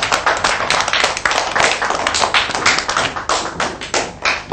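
A classroom of young children clapping their hands together in a dense, steady burst of applause, close and loud throughout without pause.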